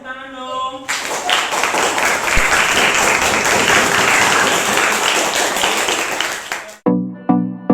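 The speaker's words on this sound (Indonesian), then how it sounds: "Tepuk tangan dong." Students in a classroom burst into loud, dense applause for about six seconds after a throwing-ball speaking activity, with a voice heard just before and after the clapping.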